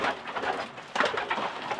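A racing pigeon coos softly in a loft, low throaty burbling calls repeated close by, faint against a light background hiss.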